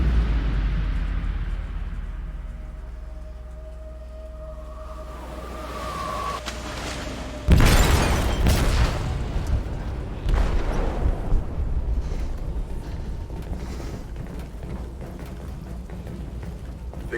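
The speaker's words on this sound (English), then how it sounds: "They detonated an explosive in the hold." A large explosive detonates in a ship's hold in Detroit: Become Human: a sudden loud blast at mid-clip, then a long rumbling roar with lingering debris noise, preceded by a low droning hum and a faint whine.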